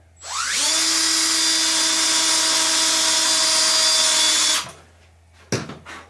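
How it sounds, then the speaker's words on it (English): A power drill countersinking screws into wood while building indoor cycling rollers: a loud, close, sustained high whine lasting about four seconds, then a stop and a brief clatter. "we're countersinking these"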